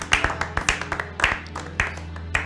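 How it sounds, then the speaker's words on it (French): Scattered hand claps from a small group at a Christian gathering, sharp irregular slaps with gaps between them, fairly close and moderately quiet over a low hum. "Applaudissons pour le Seigneur."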